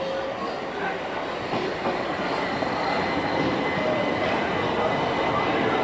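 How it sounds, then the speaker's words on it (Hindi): A London Underground train pulls into a station platform with a loud, steady rumble and rattling wheels, and a murmur of voices sits faintly in the background. "जैसे ये एक ट्रेन आ गई है।"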